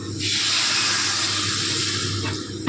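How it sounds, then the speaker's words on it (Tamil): Strained tamarind water pours steadily into a cooking pot, a close, continuous splashing rush that holds for a couple of seconds before easing off near the end. "புளி கரைச்சி வடிகட்டி வச்சுருந்தேன், ஊற்றிருக்கு."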